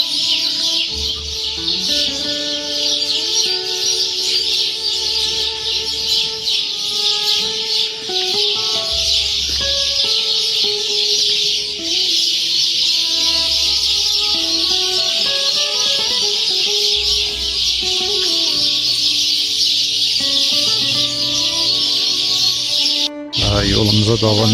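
Birds, chickens among them, call and cluck outdoors near a site in Nakhchivan. Their calls are loud and close and run continuously over a steady background hiss, with chirps and clucks coming in irregular bursts.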